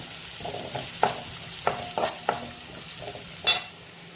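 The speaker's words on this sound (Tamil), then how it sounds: "சின்ன வெங்காயம் ஆட் பண்ணிட்டு நல்லா ஃப்ரை பண்ணிக்கலாம்." Shallots and garlic fry in a pan, giving a steady close sizzle broken by several sharp scraping stir strokes from a spatula.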